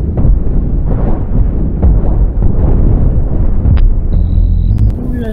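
Accelerator cannons firing in the space ship combat game Cosmoteer, heavy booming blasts and rolling explosions in a loud, continuous rumble, with a few sharp tonal electronic blips near the end.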